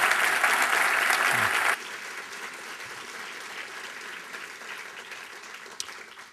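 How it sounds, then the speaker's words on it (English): Applause for a panel at a business breakfast event rises as a dense, steady clapping burst that stops abruptly after about two seconds, leaving a quieter room murmur and faint background noise. "if we could please have a round of applause for our panel"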